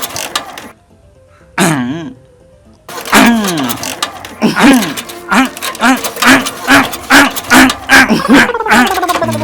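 A vehicle's engine fails to start: the starter cranks in a rapid series of rhythmic whirring pulses that never catch, after a few isolated attempts with pauses between them, loud and close.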